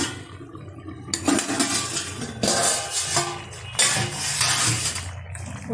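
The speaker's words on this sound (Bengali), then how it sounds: "ঢাকনাটা তুলে দিচ্ছি।" A metal lid lifted off a pot of fish curry with arum root and potato, with several clinks and clatters of cookware over a steady simmering hiss, close and fairly loud.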